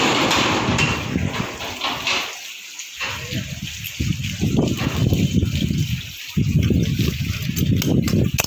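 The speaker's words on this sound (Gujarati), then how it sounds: "પાણી વહી ગયા એટલો બધો વરસાદ હે" Heavy monsoon rain pours steadily in Petlad during the evening, with water running and splashing nearby; a person talks over the continuous wash of rain.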